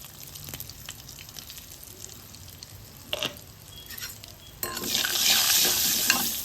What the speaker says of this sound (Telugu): ఇలా పోపు వేసుకున్నాం కదా